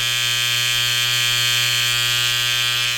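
Cheap electric hair clippers from China buzz steadily while trimming around the ear. The motor drone is loud, close and unbroken, with no talking.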